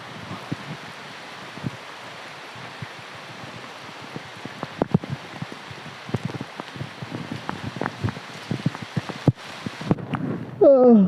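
Steady rain, loud enough to call heavy, falls and patters on surfaces through a rainy-season scene. It is a constant dense wash with scattered sharper drips, and a brief louder sound rises near the end.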